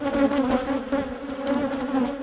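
A swarm of bees buzzing steadily with a strong droning hum that wavers in pitch, close and loud throughout, with no voices.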